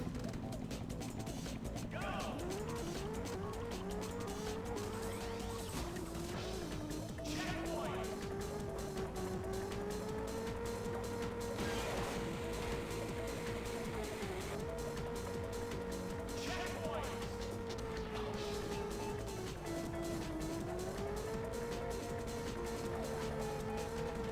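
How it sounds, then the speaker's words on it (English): A motorbike engine in the Nintendo 64 racing game Top Gear Hyper Bike drones continuously, its pitch rising and falling as the bike accelerates and shifts, loud and steady throughout, with game effects layered in. "Whoa. The sound of this engine."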